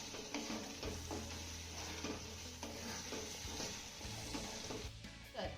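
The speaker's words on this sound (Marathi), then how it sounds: "एकदा ना याला तळापासून चांगलं हलवून घ्यायचं आहे." Grated eggplant bhurji is stirred from the bottom of a pan, with repeated scraping strokes over a soft, constant sizzle, close and moderately quiet, with no talking.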